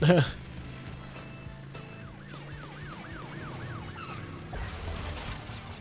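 Police car sirens wail with a rising-and-falling pattern in the Crash Bandicoot N. Sane Trilogy video game, heard moderately over game sounds and engine noise during a speedrun.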